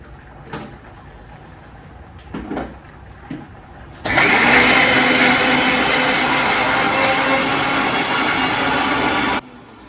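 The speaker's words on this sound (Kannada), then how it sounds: "ಇದನ್ನು ಮಿಕ್ಸಿಯಲ್ಲಿ ತರಿ ತರಿಯಾಗಿ ರುಬ್ಕೊಳ್ಳೋಣ" After a few light knocks and clatters, a mixie jar starts grinding coarse village-style chutney with no added water: a loud, steady whirring roar that runs for about five seconds and then cuts off sharply.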